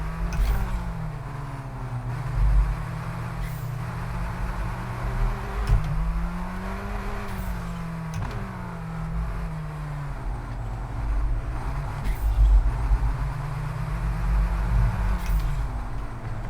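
An F1 race car in F1 23 at Miami revs and drops through gears, its engine pitch rising and falling in repeated sweeps with distinct downshift steps, loud and close.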